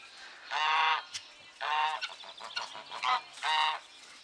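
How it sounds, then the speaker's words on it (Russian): Farmyard geese honk nearby in three loud, drawn-out bursts with a few shorter calls between them, outdoors in snow. "Вот такие вот гуси."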